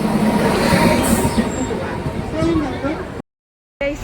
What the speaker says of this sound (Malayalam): നമ്മുടെ ട്രെയിൻ വന്നിട്ടുണ്ട്.